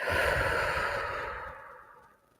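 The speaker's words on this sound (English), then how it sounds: "taking a breath in, breathing out" One slow, close breath out during guided relaxation, a soft airy exhale that starts full and gradually fades toward silence.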